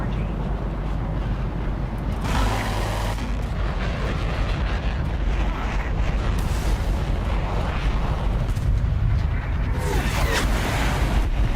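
Rapid aircraft gunfire bursts in an air battle video game, a dense, loud, continuous roar of engine and cannon fire with short louder volleys throughout.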